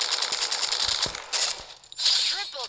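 Rapid gunfire in the mobile battle royale game Free Fire, a burst of quick shots with a few sharper cracks, fairly close and loud, with faint talk in the background.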